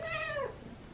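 A pet cat gives a single clear, fairly faint meow that rises and then slides down, followed by quiet room noise.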